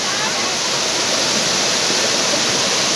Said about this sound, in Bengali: কত ওপর থেকে ঝর্ণার জল পড়ছে